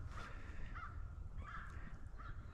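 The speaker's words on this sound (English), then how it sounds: "birds are out here doing their thing." Crows cawing outdoors on a mild day, three or four short harsh caws at a moderate distance over a faint low background rumble.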